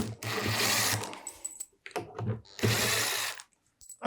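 A power screwdriver backs screws out of the casing of a Makita site radio in two loud whirring bursts separated by scattered clicks and handling noises.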